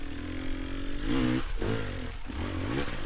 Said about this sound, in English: we need to be able to propel that bike forward by continuously blipping the throttle